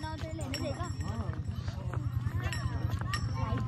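Steady, rhythmic hoofbeats of a former racing horse at Doodhpathri in Kashmir clop along close by, nearly continuous beneath someone talking over them.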